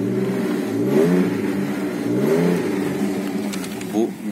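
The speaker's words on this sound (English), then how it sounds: "let's rev the baby first" A 1999 BMW E46 323Ci coupe with about 160,000 km, its straight-six revving up and back down twice, smooth and close, harmonics rising and falling, with a voice briefly heard under it.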